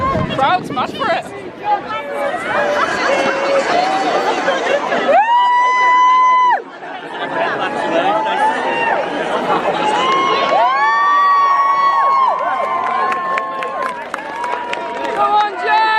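A dense rally crowd in Runcorn for Jeremy Corbyn roars and cheers continuously with shouting voices, loud and close, broken by a few sustained whistle-like tones over the babble.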